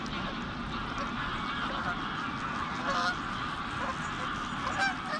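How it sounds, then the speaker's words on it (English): Canada geese honk repeatedly over a dense, steady background of flock noise at night on the River Clyde, with several louder calls standing out near the end. "Canada geese."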